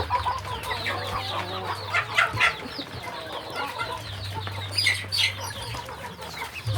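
Free-range village chickens cluck and call continuously at moderate distance, several birds overlapping in busy bursts over a steady low farmyard hum, with no talking.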